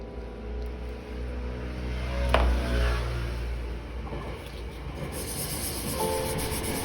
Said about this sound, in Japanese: めちゃくちゃ電車の音がしています。